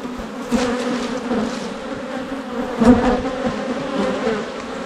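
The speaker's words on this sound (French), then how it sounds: "Le tas d'abeilles est là." A dense, droning hum of many honeybees buzzing close by at an apiary, swelling slightly at moments, with no voices present.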